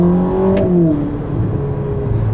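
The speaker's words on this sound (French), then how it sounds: "On a une sonorité familière hein, quand même, de la gamme coupé, moteur central arrière" Ferrari SF90 Stradale hybrid hypercar with a mid-rear engine accelerating, its engine note climbing steadily and then settling into a sustained, loud drone heard close from inside the car, with no talking.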